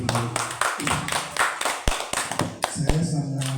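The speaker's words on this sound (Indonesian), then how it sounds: "Kita beri tepuk tangan untuk Bu Ani." A small audience at a school teachers' dissemination session claps for a presenter, with uneven, fairly close hand claps in irregular bursts and some faint voices mixed in.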